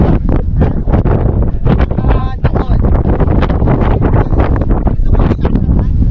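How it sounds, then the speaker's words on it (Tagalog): Strong wind buffets the microphone in loud, continuous gusts at the Paoay Sand Dunes, Ilocos Norte, with faint voices partly buried beneath the roar. "Ang lakas ng hangin eh"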